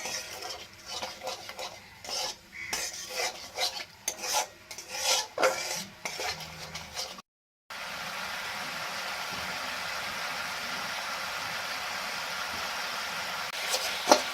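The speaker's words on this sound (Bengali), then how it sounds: "মশলাটা কিন্তু অনেকক্ষণ ধরে নাড়াচাড়া করতে করতে মশলাটা তৈরি হয়ে গেছে" A spoon scrapes and rubs through thick masala in a pan for a mango and shol fish curry, in uneven bursts of stirring. After a short break a steady, soft frying hiss continues.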